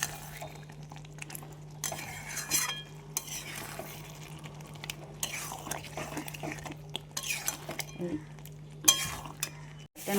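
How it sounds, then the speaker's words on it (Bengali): A spoon scrapes and stirs mutton and potatoes in a cooking pot while they braise for mutton curry, with repeated clinks and scraping strokes over a steady hum and a few quiet voices. "আলুগুলো দিয়ে আর কিছুক্ষণ কষিয়ে নেব"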